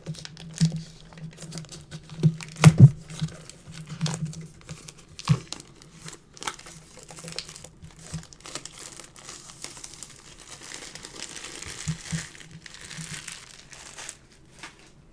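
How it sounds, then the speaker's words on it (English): Plastic wrap being peeled off a Pokemon tin bought at Walmart, crinkling and crackling close up in bursts, louder at first and then softer, scattered rustles continuing for about fifteen seconds with no talk. "I'm gonna take the plastic wrap off first."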